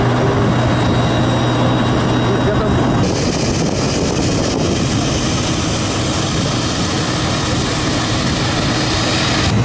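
An Airbus A321 airliner's engines produce a loud continuous roar, close and steady, with the broadband noise shifting slightly a few seconds in and holding to the end.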